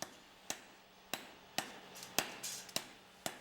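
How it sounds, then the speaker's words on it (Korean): Hammers striking heated iron as blacksmiths beat it into a knife blade, about seven sharp metallic blows in an irregular, unhurried rhythm, close and distinct, with a quiet workshop between strikes. "무쇠로 칼의 모양을 잡고 그것을 달군 다음 망치로 두들겨 칼날을 만들어 나간다."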